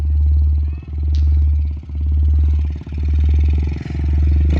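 Motorcycle engine running steadily on a trail, a loud close drone with a regular throbbing pulse roughly once a second and no talk over it.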